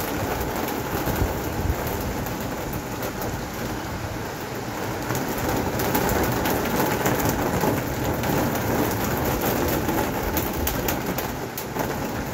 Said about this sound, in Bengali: এইবার বৃষ্টিটা নেমেছে, জোরে নেমেছে, এবার বৃষ্টিটা একটু জোরে হচ্ছে